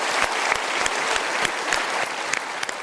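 A studio audience at a motivational talk show claps steadily, a loud, even patter of many hands with a few sharper individual claps standing out near the front.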